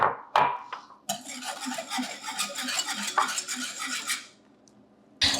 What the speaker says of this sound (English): there's 3 eggs in the recipe, and I'm going to go ahead and mix those